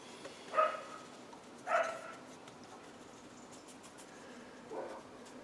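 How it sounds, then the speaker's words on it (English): A black long-haired spaniel next door gives two short, distinct barks close together, then a fainter third bark after a pause, heard at a moderate distance over a quiet evening background. "She's a lovely black long-haired spaniel, beautiful dog."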